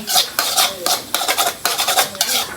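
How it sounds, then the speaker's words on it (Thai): Rapid metallic scraping and clanking of a utensil against a wok, in quick irregular strokes, close and moderately loud. "ยกกระทะออกมา"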